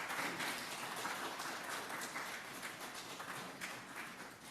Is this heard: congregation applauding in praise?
yes